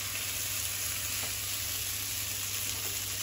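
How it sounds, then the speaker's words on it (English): Venison browns in a hot pan with a steady, dense sizzle and a faint stir or two, close and continuous with no talking. "I'm going to give this a few more stirs and then I'm going to get the next lot in"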